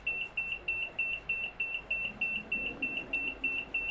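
A train's warning beeper in Train Sim World 5 on a Manchester Airport commuter route, a steady series of short, evenly spaced high electronic beeps, about four per second, over a low cab hum.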